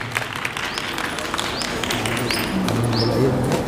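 An audience at a seminar applauds a guest with steady, fairly loud clapping that continues throughout, with some faint background sounds mixed in.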